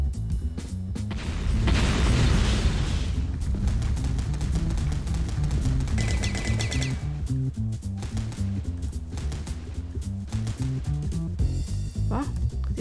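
Grenade blast in a video game, a loud booming burst with rumbling debris layered over dense game music and effects, continuing with further rumbles and a rising tone near the end.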